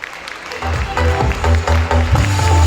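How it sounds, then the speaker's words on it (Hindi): Audience applause at a school annual results and prize ceremony, a steady wash of clapping filling a hall over a low droning background tone, fairly loud and sustained. "आपके भरपूर तालियों में डॉक्टर पीर सैयद तारिक शरीफजादा साहब।"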